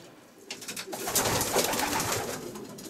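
Young pigeons coo together in a loft, a dense, steady murmur of overlapping calls with rustling and wing movement, fairly close and continuous.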